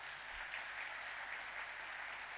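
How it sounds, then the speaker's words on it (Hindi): Listeners at a Jain religious sermon applaud together, a steady, even wash of many hands clapping at once, moderately quiet and continuing without a break for a couple of seconds. "जिन्होंने पूरा विधान कराया उनके लिए तो तुमको ताली बजाना चाहिए"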